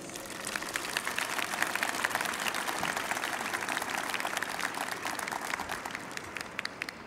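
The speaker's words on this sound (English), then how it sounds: "Students, let's give one more round of applause to your parents," Sustained audience applause fills a high school graduation ceremony, a dense steady wash of many hands clapping with no speech over it.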